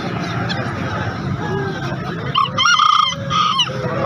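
Bangkok fighting chickens cluck and crow at a busy chicken market, with dense market bustle underneath and a run of loud, close calls near the end.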